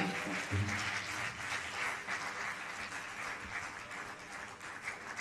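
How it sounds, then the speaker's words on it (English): A standing audience at the Kabafest opening ceremony applauds, a steady, moderately distant wash of clapping that continues throughout at an even level. "we keep on clapping, please"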